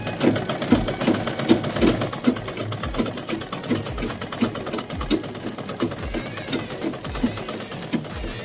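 Sewing machine stitching cloth for clothes such as a blouse or T-shirt, a fast rhythmic mechanical clatter running steadily throughout at close range, with no talk over it.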